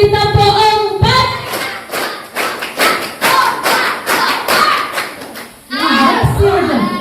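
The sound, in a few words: children clapping a rhythmic pattern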